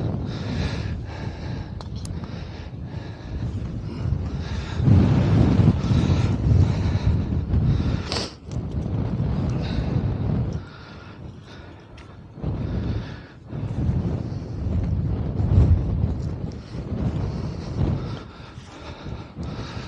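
Wind gusts across an open golf course, buffeting the microphone in uneven waves of low rumble that swell and drop over the whole stretch. No voices are heard.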